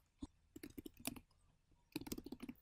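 Keys tapped on a computer keyboard while entering names into a contact list, heard as quick, quiet clicks in two bursts with a short pause between them.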